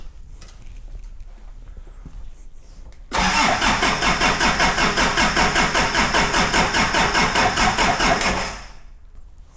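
A Daihatsu Fourtrak diesel engine with one injector cracked open cranks on the starter, a loud, steady rhythmic churning that runs for about five seconds without firing, then stops.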